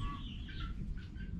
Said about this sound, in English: birds are freaking out.